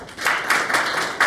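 An audience claps for a short burst after a lecture presentation, several hands loud and close, with a renewed swell of clapping at the end.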